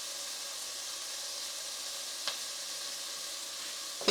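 A stir fry with fresh coriander sizzles quietly in a pan as a faint, even hiss, with a single soft tap partway through.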